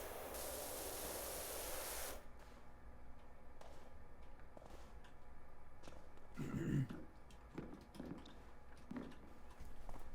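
Turbo nozzle on a pressure washer in PowerWash Simulator spraying as a steady broadband hiss for about two seconds, then cutting out, leaving faint scattered clicks and short bursts over low background noise.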